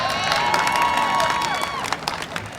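Crowd applause and cheering fill a college graduation ceremony, a dense, steady roar of clapping and shouts from a large audience, loud throughout with a few whistles rising over it.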